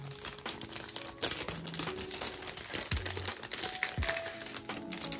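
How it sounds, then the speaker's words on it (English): Plastic wrapping crinkles and crackles steadily as a Nintendo Switch game, Rive Ultimate Edition from Super Rare Games, is pulled out of its packaging, close and continuous with sharper rustles throughout. "So let's take it out of the packaging real quick."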